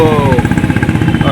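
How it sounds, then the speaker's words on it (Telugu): A Bullet motorcycle with a modified aftermarket silencer thumps loudly nearby in a rapid, steady pulse, its heavy exhaust beat filling the scene while a voice talks over it. "సౌండ్ ఎక్కువ చేసే వెహికల్స్, అంటే బుల్లెట్స్కు ఎక్కువ"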